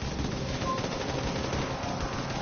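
Rapid, continuous gunfire pours incendiary rounds into an armored personnel carrier in a video game, a dense, steady, loud rattle with no letup across the clip.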